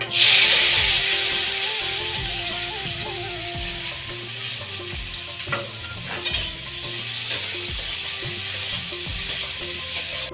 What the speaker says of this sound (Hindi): प्याज, टमाटर और हरी मिर्च मैं भून ली हूँ।